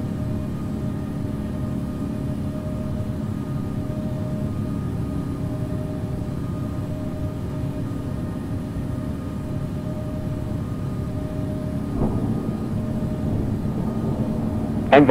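An Air France A380-800 airliner in the Infinite Flight simulator game rumbles in a steady, even engine drone while landing, with a brief thud near the end.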